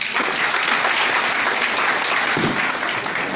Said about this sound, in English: A round of applause for my prof